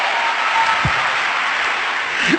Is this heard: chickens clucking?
no